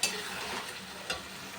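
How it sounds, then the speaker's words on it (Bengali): Fish sizzles quietly as it is stirred and sautéed in a spice masala, a soft steady frying hiss with a couple of brief louder scrapes. "এবার একটু মশলাটা কষানো হয়ে গেছে, মাছটা দিয়ে একটু কষিয়ে নেবো,"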